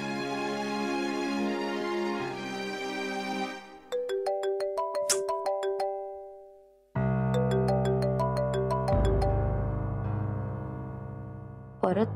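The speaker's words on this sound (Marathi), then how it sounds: "परत त्याच नंबर वरून फोन." A mobile phone rings with an incoming call, playing a loud melodic ringtone of sustained tones and bright chiming plucked notes that pauses briefly midway and then resumes, with no talk over it.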